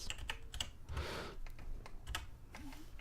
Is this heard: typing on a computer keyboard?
yes